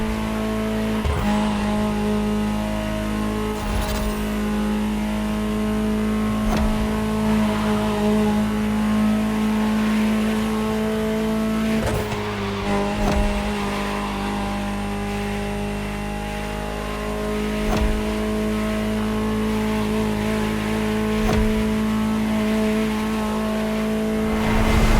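Ferrari supercar engine in The Crew Motorfest racing game, a sustained loud engine hum with repeated revving, gear shifts and occasional tire squeal, no voices over it.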